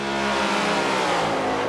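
V8 race car engine in a racing video game, loud and continuous, roaring at high revs with a rising then steady pitch; no voices.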